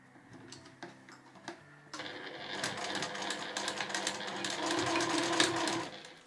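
A domestic sewing machine stitches a small cloth case, with a few sparse clicks and taps first, then a steady rapid mechanical whirr of needle and motor that runs close and continuous to the end.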